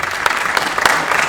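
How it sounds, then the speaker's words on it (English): An audience at a Cross+Florida 2019 conference gathering applauds warmly, a dense, even wash of clapping with a few sharper claps standing out, loud and close. "I feel funny about people applauding, and I don't mind the applause"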